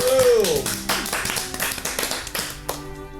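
Applause from a game audience in Fliptales as a genie appears on stage, heard as a run of close, rhythmic claps over a sustained music tone and backing score.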